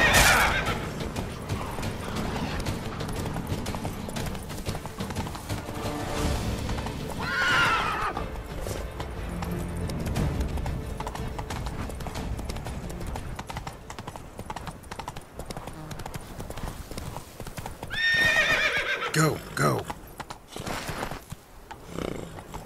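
Roach, Geralt's horse in The Witcher 3: Wild Hunt (Blood and Wine), clops steadily along with hooves throughout, letting out a loud neigh early on and another whinny near the end, over game ambience.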